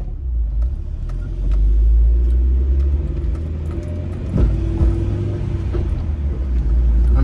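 A car on a city street in Philadelphia's Germantown, heard from inside with a deep, steady engine and road rumble that rises and settles as it slows and pulls away, with faint clicks and no talking.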